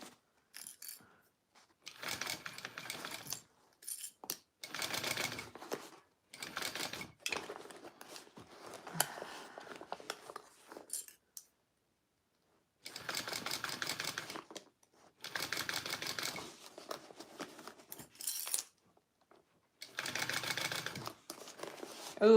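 A home sewing machine stitching a Zynah garment from Kaur Threads runs in repeated bursts of rapid mechanical clatter, close and moderately quiet, separated by short silent pauses.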